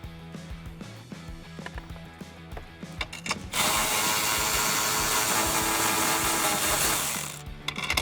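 A ratchet with a small extension and 10 mm socket loosens screws inside a 2015-2020 Ford F-150 dash; a few quiet clicks give way to a loud continuous mechanical whir, then clicking again near the end.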